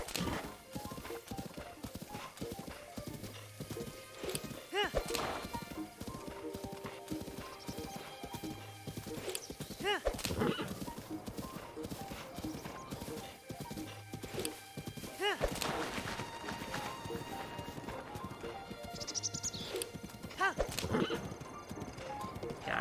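Horse hooves clip-clop in a rapid gallop in The Legend of Zelda: Breath of the Wild, with repeated neighs and whinnies over a steady rhythm, loud and close throughout.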